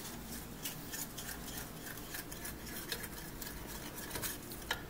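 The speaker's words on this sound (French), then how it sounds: "Donc, on mélange le tout." Sauce mixture with brown sugar being stirred in a pot, a steady scraping swish with faint clinks of utensil against the pan, close and continuous with no talking.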